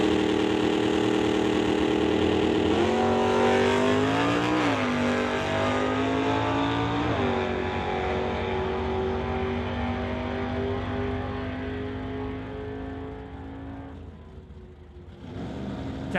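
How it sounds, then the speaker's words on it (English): Drag race engines at an outlaw shootout, a Nova wagon against a super stock 1996 Chevy Camaro, roaring loudly and steadily with rising revs and gear shifts, then fading slightly as the cars pull away. "That will then leave Cassie Tippy down in 1172 in the Nova wagon to race Dave Jung in his super stock 1996 Chevy Camaro"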